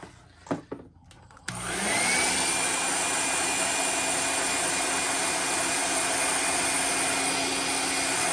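A heat gun starts up after a few handling clicks and then runs as a loud, steady roaring whoosh with a constant whine, used to heat-set paint on a fishing lure, a JDM Luxxe Avenge 80 shad lure.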